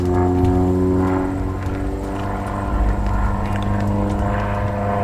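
A single-engine propeller aerobatic airplane flying a competition sequence at an aerobatic club contest, its steady droning engine loud and continuous throughout, with no talk.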